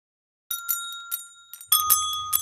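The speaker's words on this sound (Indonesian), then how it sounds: "Bunyi bel dihasilkan dari getaran pemukul bel." An electric bell rings in short metallic bursts as its striker vibrates, bright high tones repeating in quick clusters, joined partway through by a low buzzing rattle.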